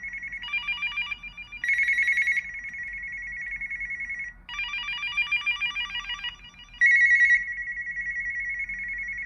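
A landline phone ringer trilling in repeated bursts, a bright electronic warble with short pauses between rings, moderately loud and close.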